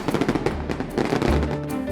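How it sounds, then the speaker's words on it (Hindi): Firecrackers burst loudly on a street, a rapid irregular string of sharp bangs and crackles over two seconds, booming like bombs with no talking. "वो पटाखे बड़ी जोर का शोर कर रहे थे, जैसे कि बड़े बम हो।"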